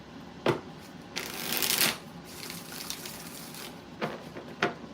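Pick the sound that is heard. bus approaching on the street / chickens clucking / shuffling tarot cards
shuffling tarot cards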